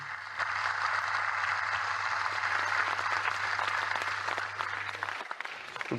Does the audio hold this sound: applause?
yes